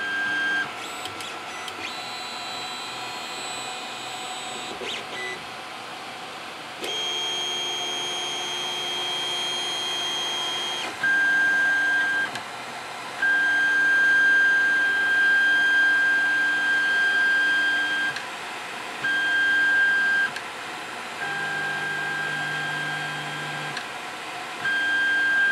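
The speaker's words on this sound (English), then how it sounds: "let's try homing again and see if we can get this to home to the right place" Ender 3 3D printer homing its axes, with stepper motors whining in shifting tones and short pauses between moves, close and steady, no talking.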